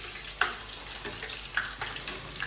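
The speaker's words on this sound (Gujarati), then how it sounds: "તો ફટાફટ તળી લઈએ" Steady hissing sizzle of food frying in oil, with a couple of sharp pops and crackles breaking through the constant noise.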